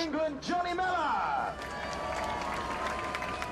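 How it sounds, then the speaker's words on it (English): Light applause from men's marathon runners on the start line at the 2022 Commonwealth Games, a soft, steady patter of clapping that rises after a brief voice and continues under crowd murmur. "A little tickle of applause for each other on the start line."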